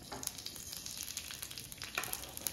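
Mustard seeds crackle and pop in hot oil on a tawa over a low flame, a dense steady sizzle dotted with sharp little pops, close and fairly quiet, with no voices.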